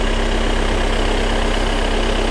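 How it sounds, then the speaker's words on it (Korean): A Volkswagen Tiguan 2.0 TDI diesel engine idles with a steady, low rumble close by, even and unchanging throughout with a constant hum. "엔진 소리 일정합니다."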